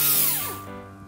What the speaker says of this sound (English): First, let's patch this up with the drill.